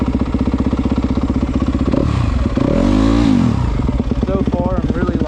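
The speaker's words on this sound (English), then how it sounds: "So we're gonna go out here after the bike gets warmed up." Motorcycle with a rocket exhaust and Wind Motorworks air box warming up at a sand track, a loud close-up pulsing idle that rises into a rev midway before settling; a person talks over it near the end.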